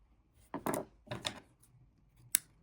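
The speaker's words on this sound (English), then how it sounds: "And then we cut off the yarn" Scissors snip through crochet yarn in a quiet room, a few close, crisp cutting sounds in quick succession followed by one final sharp snip.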